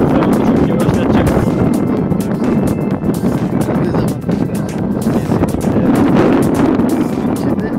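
Strong wind buffets the microphone outdoors on a paintball field, a steady loud rumble with gusty swells throughout, while voices talk over it.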